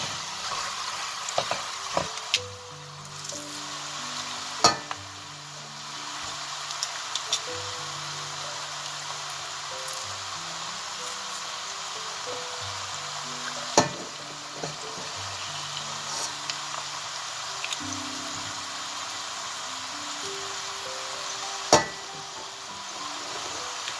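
Minced garlic, four cloves, sizzling in a pan for Moroccan chicken with olives and preserved lemons, a steady soft frying hiss punctuated by occasional clicks and scrapes of stirring.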